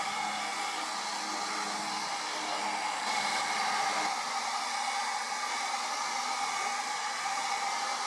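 A hair dryer on its warm setting blows air to dry a freshly rinsed imitation gold-plated necklace, a steady close whooshing roar that holds evenly from start to finish.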